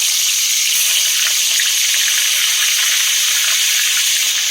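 Fish sizzling in hot mustard oil in a pan, a steady bright hiss of frying that carries on without a break, close and fairly loud with no voices over it.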